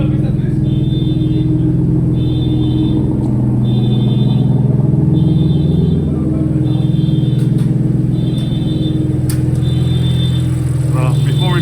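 A modified BMW F80 M3 engine rumbles steadily at the start of a drive, a deep, loud, continuous drone with a faint chime repeating every second or so in the background.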